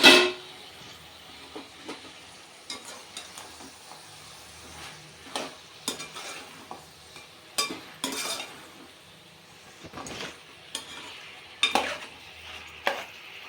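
Goat head curry cooking in whole garam masala sizzles quietly while a spoon scrapes and clacks against the pot in irregular bursts. No one speaks.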